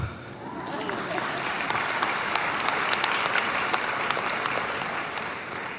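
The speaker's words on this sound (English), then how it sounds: "They deserve a round of applause." Steady, dense applause rolls through an audience during a graduates' speech at George Washington University, fairly distant and sustained for the whole stretch with a few sharper claps standing out.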